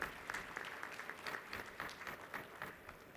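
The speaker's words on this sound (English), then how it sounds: "Please give him a big round of applause." Audience applause at a university convocation, a steady, moderately dense patter of many hands clapping heard at a distance, fairly faint and continuing evenly without voices.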